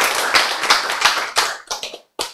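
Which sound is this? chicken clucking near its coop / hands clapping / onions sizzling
hands clapping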